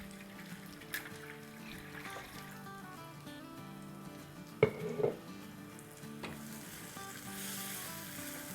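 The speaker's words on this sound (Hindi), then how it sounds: "तो बस हमें इतना भूनना है कि चिकन जो है उसके साथ साथ बेसन जो है वो अच्छे से भुन जाए" Chicken coated in gram flour fries in a pan, giving a steady, soft sizzle with occasional stirring clatters and a couple of louder knocks midway.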